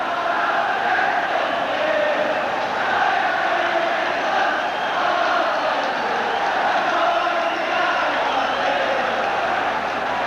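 A large football crowd at a Celtic v Ajax European Cup first-round match roars in a steady, continuous wall of noise, swelling slightly at times, with a commentator's voice over the top.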